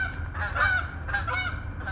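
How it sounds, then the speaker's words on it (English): Several loud, nasal Canada goose honks in quick overlapping bursts, close by at a creek, over a low rumbling background. "Canadian geese."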